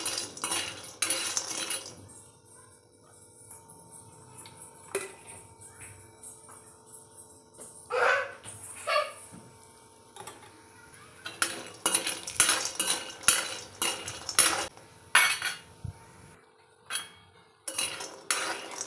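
Sandge are stirred and roasted in a little oil in a pan, heard as intermittent metal spoon scrapes and clinks against the pan, sometimes sparse and sometimes in quick busy bursts, with no talk.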